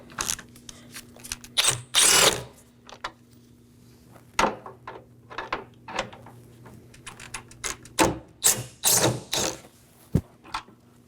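Short bursts of a power driver or ratchet backing out three 7mm headlight bolts on a 2018-2024 Chevrolet Equinox, close by, in several separate spurts with pauses between, over a steady low hum.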